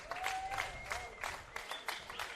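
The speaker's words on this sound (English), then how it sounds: "Sanakis gets a huge round of applause for scoring" Crowd at a Dunbar Rovers v UNSW men's league soccer match applauding a goal scorer, a steady patter of distant clapping with faint voices mixed in.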